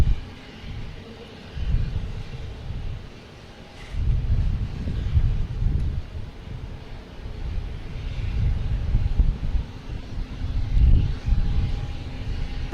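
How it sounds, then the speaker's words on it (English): A Delta A321 airliner takes off at Boston Logan Airport, a deep jet engine roar that swells and fades in several broad low-pitched surges, fairly loud and continuous with no voices. "Next to take off is Delta A321 heading to Minneapolis."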